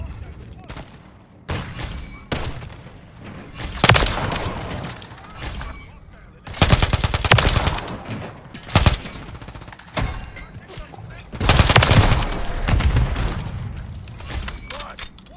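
Bursts of automatic gunfire and single shots from a Modern Warfare 3 match, loud and close, arriving in irregular clusters separated by short pauses, with voices talking over parts of the action.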